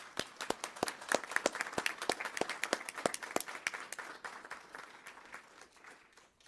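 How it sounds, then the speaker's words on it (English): A room applauds at a board of education meeting with sharp, distinct claps in a loose, fairly quiet rhythm, thinning and softening toward the end. "Please join me in a round of applause."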